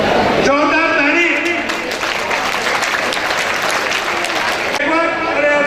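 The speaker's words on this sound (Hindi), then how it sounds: "जोरदार ताली," Loud, dense audience applause fills a talent award ceremony in Hanumangarh, a steady wash of clapping from the crowd for most of the stretch with voices audible around it.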